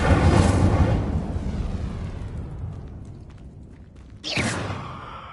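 Incendio fire spell cast in Hogwarts Legacy, a loud roaring whoosh of flame that slowly fades, followed by a second sharp burst of fire near the end.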